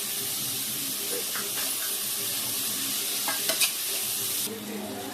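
Chopped onions frying in oil in a pan for a cauliflower gravy, a steady, dense sizzle and hiss with a few soft stirring scrapes, close and continuous with no talking.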